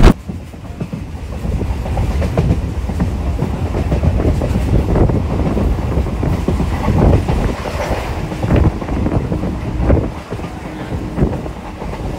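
A Howrah to Digha local train runs with a steady, loud rumble of wheels on track and rattling carriages, plus wind buffeting throughout.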